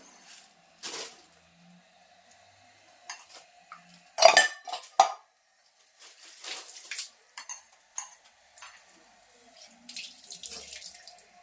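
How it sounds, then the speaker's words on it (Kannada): Fish being cleaned and rinsed at a kitchen sink, with bursts of running tap water, splashing and a few clinks of utensils and dishes between quiet gaps, close and moderately loud. "ಫಿಶ್ ಈಗ ಕ್ಲೀನ್ ಮಾಡ್ತಾ ಇದ್ದೀನಿ"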